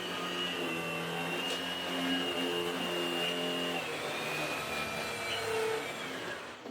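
A Vorwerk VK200 Premium vacuum cleaner running on auto mode at lower speed near a rug and hard floor, a steady close motor whine with a high tonal hum throughout.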